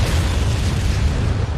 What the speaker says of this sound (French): Explosion soudaine car le méchant Kramer a saboté sa caisse